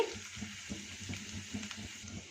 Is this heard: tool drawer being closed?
no